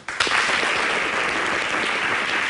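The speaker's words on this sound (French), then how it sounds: "Ça s'applaudit" Loud, dense studio audience applause on a French-language talk show, starting abruptly and holding steady throughout as a continuous wash of clapping.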